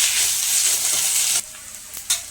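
Ginger garlic paste fries in a pan with pieces of salt fish, a loud bright sizzle that drops off suddenly partway through, followed by quieter crackles and a brief stir.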